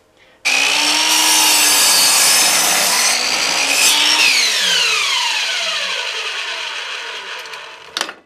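Long piece of wood being cut with a power saw while shaping a guitar neck and headstock, a loud continuous rasping cut running about seven seconds that slowly fades, then a brief clunk at the end.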